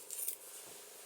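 Scissors snip once or twice while binding a handmade journal, a brief, quiet metallic cut close by in a still room.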